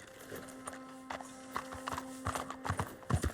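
Horse hooves clip-clop in a steady, unhurried rhythm in the video game Red Dead Redemption 2, with a faint continuous hum underneath.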